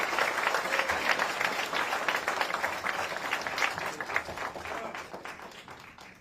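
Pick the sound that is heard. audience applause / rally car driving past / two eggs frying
audience applause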